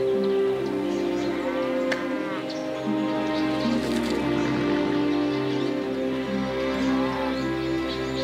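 Cattle moo in the Civilization 5 video game, several long, loud, drawn-out lowing calls overlapping one another over a steady ambient background.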